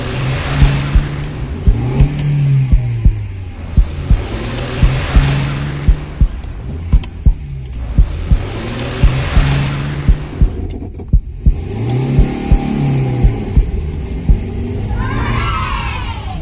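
Car engine revving on a rural road near Desa Guntuharjo, a loud, repeated rising and falling engine drone in cycles, with sharp clicks and a rushing wind-like hiss throughout.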